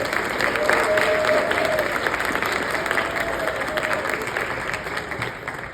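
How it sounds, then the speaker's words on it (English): A crowd at a Syrian and Lebanese clubs federation gathering gives a round of applause, dense steady clapping that holds loud and gradually thins toward the end. "So let's give them a round of applause."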